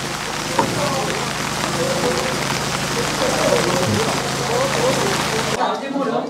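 Heavy rain pours down in a loud, dense, continuous roar of drops on surfaces, cutting off abruptly near the end.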